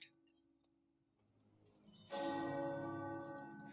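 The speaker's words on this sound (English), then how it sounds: "The tower bells are ringing." Tower bells ring in the video game Midnight Suns, a sustained resonant peal that swells in suddenly after a quiet stretch and keeps droning at moderate volume.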